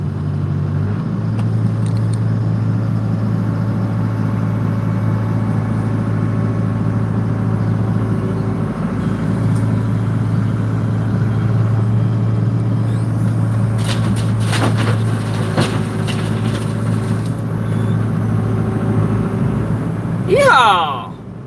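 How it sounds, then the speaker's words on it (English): A dump truck's engine idles loudly and steadily during loading, a continuous low drone with some clanking and a rise in revving near the end. "you guys will be able to watch me load my dump truck."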